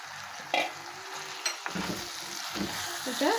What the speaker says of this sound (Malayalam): ആ ചെമ്മീൻ നമുക്ക് ഇതിനകത്തോട്ട് ഇട്ട് കൊടുക്കാം.